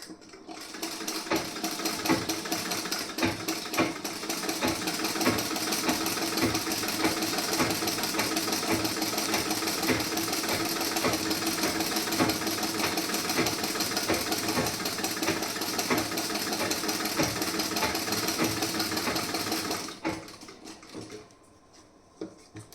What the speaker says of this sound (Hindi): अब आपको इस साइड में भी इसी तरीके से स्टिचिंग करना है